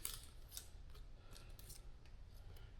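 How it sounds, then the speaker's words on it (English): Adhesive tape backing is peeled from a low-profile Husky WindVent visor for a Chevy/GM 1500 truck. A faint, close crackle comes through with a few sharp ticks over a low background rumble, and nobody talks. "I'm going to go ahead and pull back the tape"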